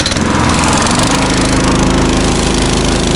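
Loud, continuous engine roar of a vehicle with its wheels spinning and slipping in snow, steady and close with no talking.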